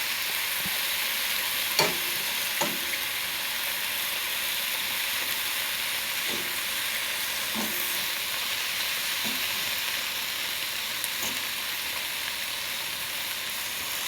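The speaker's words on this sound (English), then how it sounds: "Gonna cook the pineapple a little bit. So heat it up and then get it caramelized a little bit." Pineapple pieces fry and caramelize in a hot pan, giving a steady, fairly quiet sizzling hiss over a long stretch, with a handful of isolated clicks from stirring.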